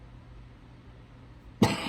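A single sharp cough bursts out near the end after quiet room tone, close and loud, with no other voices.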